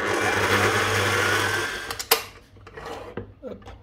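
Electric mixer steadily whirring as pistachio paste is beaten into a sugar and egg mixture for madeleines, loud and continuous before cutting off, followed by a few clinks and bowl scrapes.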